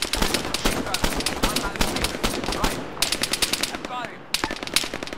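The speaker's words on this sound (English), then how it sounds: "that's an HMG." Heavy machine gun in the military shooter ArmA 3 fires sustained bursts of rapid, sharp reports, loud and close, with short pauses between volleys and a final burst near the end.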